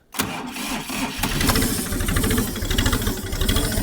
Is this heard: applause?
no